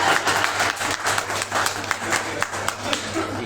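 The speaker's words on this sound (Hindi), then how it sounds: "तालियां।" An audience at a literary award session applauds, a burst of scattered hand claps mixed with crowd murmur that carries on throughout.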